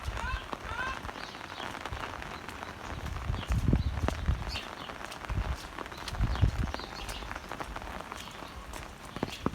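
Rain pattering steadily onto a flooded, muddy chicken yard in Kyneton while water tanks overflow, with squelching footsteps through mud and a bird chirp early on, under occasional speech.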